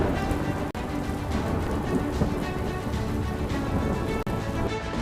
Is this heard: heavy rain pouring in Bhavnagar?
yes